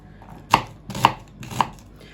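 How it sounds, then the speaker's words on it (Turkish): Three sharp knife chops through onions on a cutting board, evenly spaced about half a second apart, close and clear with no talking. "Bu şekilde bütün soğanlarımı doğrayıp geliyorum."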